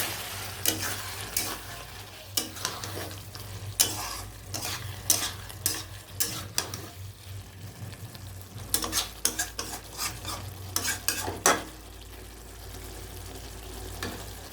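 Potatoes frying in a pan for a bahal fish curry, a steady sizzle beneath repeated clinking scrapes of a spoon stirring against the metal pan, close and moderately loud.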